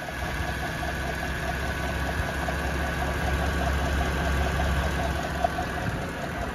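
A 2021 Ram 1500 TRX pickup engine idles with the hood open, a steady low mechanical drone with a faint ticking or whirring layer on top, continuous and even, with no talking.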